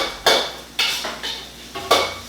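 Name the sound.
stir-frying onion and garlic in a pan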